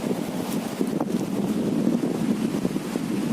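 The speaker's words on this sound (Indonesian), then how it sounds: "Lah ya anginnya gede." Strong coastal wind blows hard across the microphone at the shore during a fishing outing, a loud steady rushing roar with gusty buffeting and no voices.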